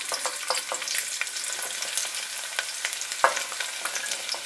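Small shallots frying in hot oil with mustard seeds, fenugreek and cumin for a garlic kuzhambu, a steady close sizzle with scattered pops and light scrapes of a spoon, no voices.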